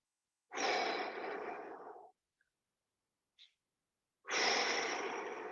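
Two long, forceful exhaling breaths during a plank warm-up in an abs and core class, each lasting over a second with a short quiet gap between them, close and loud, with no talking.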